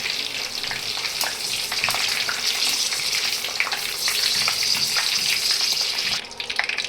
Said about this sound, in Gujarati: જો આપણે આ ધાણા ભાજી અને મરચી 2-3 નાખી છે। હવે એને આપણે તરી નાખીએ આ રીતના।